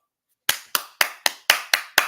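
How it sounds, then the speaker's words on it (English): Seven sharp, evenly spaced claps ring out at a steady quarter-second rhythm, loud and close, cheering on boxer Tank Davis; no talking. "Let's clap it up for Tank."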